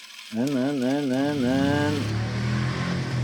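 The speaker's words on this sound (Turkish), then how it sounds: "şimdi aracımız böyle tam gaz gidiyor" A Maverick RC car whines at full throttle, a close, loud electric motor pitch wavering up and down before settling into a steady drone, with a voice briefly audible.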